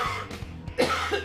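A man coughs a few times in quick succession, close to the microphone, with a throaty rasp and a brief pause between bursts.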